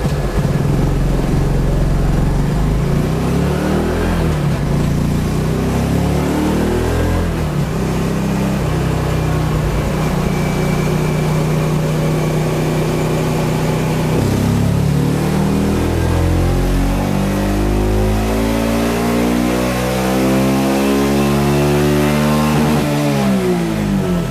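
A car engine runs on gasohol 95 during a horsepower test, warmed up to about 97 degrees, droning loudly and steadily, then climbing in pitch through a long sustained rev toward the end.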